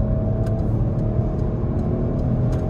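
A new Peugeot 308 130 petrol engine drones close and steady with a low rumble, building gently as it accelerates, with faint clicks above it.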